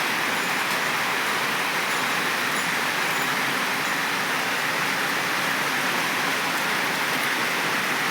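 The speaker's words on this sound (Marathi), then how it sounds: "बाहेर पाऊस चालू आहे" Steady rain falls continuously, a dense even hiss with no pauses or voices.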